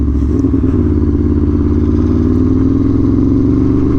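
An Aprilia Tuono V4 Factory motorcycle ridden on a dirt and rock road, its engine droning loud and close with a steadily rising pitch, a continuous throbbing roar over faint clatter.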